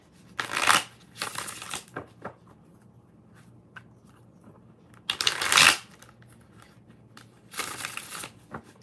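Tarot cards are shuffled in short bursts, several quick riffling rustles separated by quiet pauses, close and crisp, with no speech.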